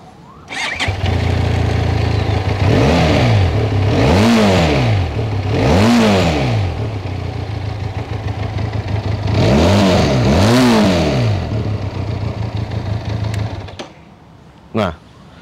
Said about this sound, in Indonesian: Dengan hanya 500cc 2 silinder, dia bisa bikin suara buangan dari knalpot tuh yang ngebas banget